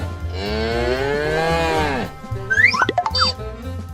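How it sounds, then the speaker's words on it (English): A cow lets out one long, loud, rising moo, followed by a quick burst of boing-like cartoon sounds, set in a farm diorama scene with toy cattle. "The cows relax for some time."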